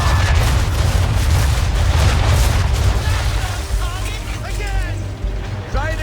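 Naval cannons firing broadsides from a ship in the video game Assassin's Creed 3: heavy, rumbling booms roll on one after another. A voice is heard faintly toward the end.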